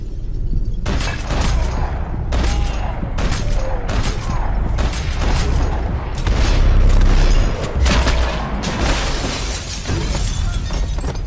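Gunfire in the video game Max Payne 3, a dense fusillade of loud shots and crashing impacts with glass-like shattering, bursts following one another without pause.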